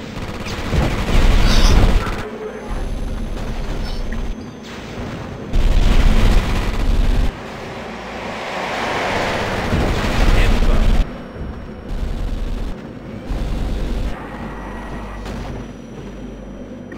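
Airstrike explosions in the video game Starship Troopers: Terran Ascendancy, heavy rumbling blasts and bursts of gunfire-like crackle that swell and cut off in several loud waves, with no talking over them.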